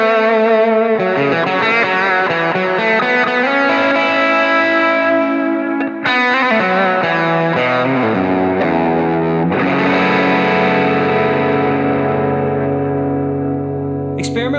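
Electric guitar played through a Line 6 HX Stomp delay, sustained distorted notes and chords trailing repeating echoes and wash, loud and continuous with changing pitches throughout.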